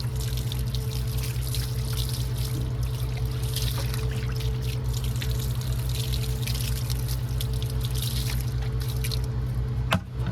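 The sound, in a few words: water poured over tires and rims to rinse them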